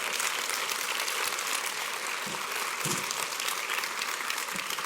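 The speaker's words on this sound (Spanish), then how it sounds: "Dale un fuerte aplauso al Señor si se lo quiere dar." A church congregation applauding the Lord during a Spanish-language worship service, a loud, continuous wash of clapping from many people with a couple of brief low thumps partway through.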